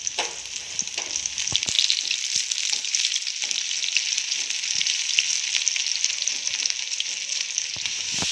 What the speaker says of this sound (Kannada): ಚಲೋತ್ನಾಗೆ ಫ್ರೈ ಮಾಡ್ಕೋಬೇಕು ಇವು